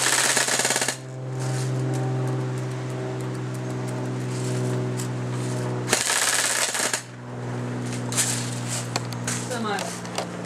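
An Airsoft GI custom G4A3 electric blowback AEG fires on full auto outdoors at a range: a steady rapid mechanical buzz of shots and gearbox whine in two long bursts, a short pause between them, with no talk over the firing.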